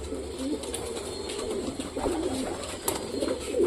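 Domestic pigeons, a flock recovering from illness, coo in a continuous low warbling murmur at close range, with soft repeated calls overlapping throughout and no talking.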